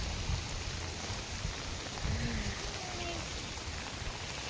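Steady rain falls outdoors beside paddy fields in a rural village, a continuous even hiss with soft patter, fairly close and moderately loud, no voices heard.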